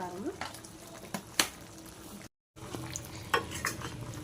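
Chili powder being stirred into a pot of chicken curry, with a spoon scraping and knocking against the pan over a low sizzle, a few sharp clinks standing out close by.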